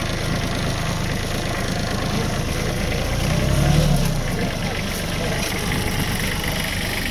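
A Kubota ASTE A175 tractor idling during unloading from a delivery, a steady mid-low engine drone with constant vibration, near and even, swelling briefly in the middle.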